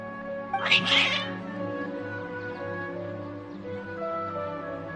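A cat in the video game Genshin Impact lets out one short, bright meow near the start, then steady game music plays underneath with no further cries.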